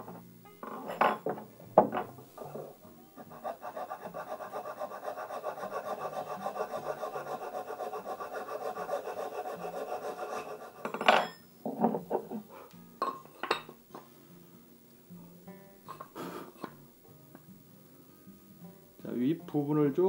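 Scraping the wooden body of a Japanese hand plane with a blade, heard as a sustained rasping stroke followed by short, irregular scratches and knocks, with someone talking quietly between strokes.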